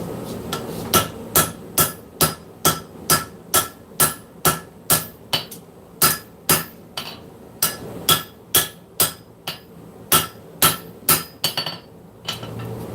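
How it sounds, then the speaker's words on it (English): Straight peen hammer forging a hot knife blade on an anvil, a long run of loud, sharp metallic strikes at a steady pace of roughly two per second with ringing tails, close up. "Switch over to the straight peen."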